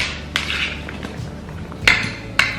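Butternut squash pieces tossed with olive oil in a bowl give a few soft clatters and knocks, with three sharper clinks spaced over a couple of seconds against a quiet kitchen background.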